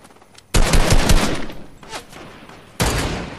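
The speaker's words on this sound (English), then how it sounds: "Now they're shooting behind us." Rapid automatic gunfire from a Fortnite match: a loud sustained burst of shots followed by a quieter lull, then another sharp burst near the end.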